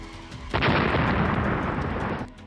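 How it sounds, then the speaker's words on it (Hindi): A sudden loud blast from an exploding home air conditioner erupts and roars at full strength for nearly two seconds before cutting off, heavy and booming with no voices. "घर के एसी में कभी भी हो सकता है विस्फोट।"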